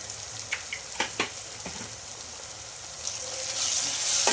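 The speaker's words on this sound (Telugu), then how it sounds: "ఇది కొంచెం పచ్చివాసన పోయే వరకు అయితే ఫ్రై చేసుకుందాం" A spice mixture fries in a pan for a leftover-roti breakfast dish, a soft continuous sizzle with a few scraping stirs and taps, building louder toward the end.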